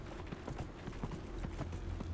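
Horse hooves clip-clop in a video game, a steady run of soft, even hoofbeats close by over a constant low background hum, with no talking.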